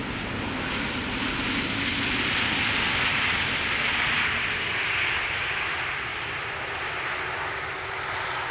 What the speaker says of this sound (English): In the background, we could also see an airplane take off from 18 left.